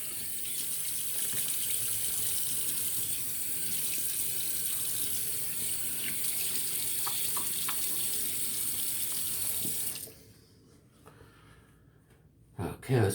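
Cold water runs from a bathroom tap for rinsing a face after shaving, a steady hissing stream for about ten seconds before it cuts off, with splashes and a brief breath near the end.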